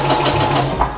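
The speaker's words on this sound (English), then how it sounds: "I'm going to serge all the seams together anyways" A serger stitches the seams of a pair of pants, a fast, steady mechanical whir close by for about a second with no voices.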